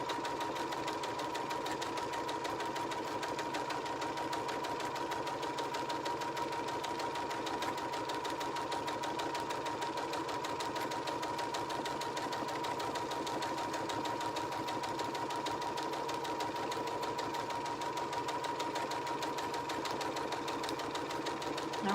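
A sewing machine runs a long straight stitch down the seam of a book pillow, a steady, even whirring hum that holds without pause from start to finish, close and fairly loud.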